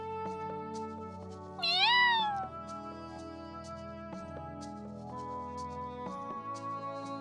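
A cat in the video game Hakuoki gives a single clear, rising-and-falling meow over soft background music with sustained tones.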